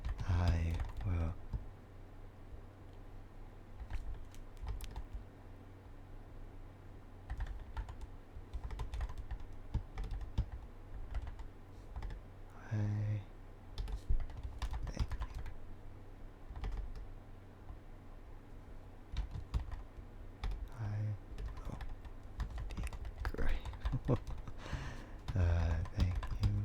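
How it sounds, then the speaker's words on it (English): Computer keyboard typing runs steadily in the background throughout, a dense, continuous clatter of keys at moderate distance with occasional louder clicks, with no voices over it. "You just hear like typing noises in the back."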